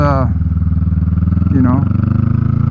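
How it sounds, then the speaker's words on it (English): A Honda Rebel 500 with an aftermarket muffler chugs close by in first gear, pulsing rhythmically as it revs up and pulls away, with a rising whine partway through. "Let you hear what it sounds like when you take off. So we're in first gear here."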